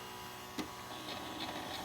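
A toy electric vacuum cleaner gives a faint click as it is switched on, then runs with a quiet, steady motor whir and hum.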